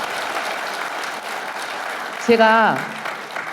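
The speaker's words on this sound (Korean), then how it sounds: "박수 한번 부탁드리겠습니다" Steady applause fills the room at a Seoul policy forum on managing semi-industrial areas, continuous and moderately loud, with a brief voice rising near the end.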